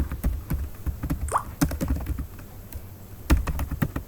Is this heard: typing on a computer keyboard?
yes